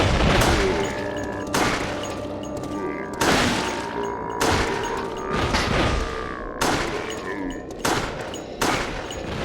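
Gunfire in the video game Resident Evil: The Darkside Chronicles: a series of loud, sharp shot bursts every second or so, each with a booming tail, over a constant background of game noise.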